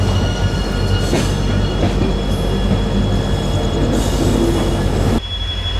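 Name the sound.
diesel locomotive train running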